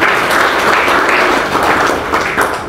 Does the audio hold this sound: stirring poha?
no